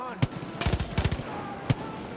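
Gunfire from a .44 Magnum in Far Cry 5 multiplayer, sharp separate shots with a quick cluster of blasts in the middle, loud and close, with some game noise between.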